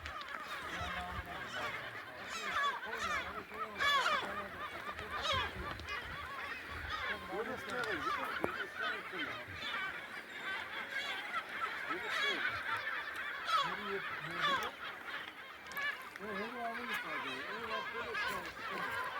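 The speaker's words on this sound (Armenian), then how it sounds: "Բազմաթիվ ճայեր" Many gulls call over the water near Akhtamar Island on Lake Van, a dense, continuous chorus of overlapping honking, squawking cries, with faint human voices mixed in.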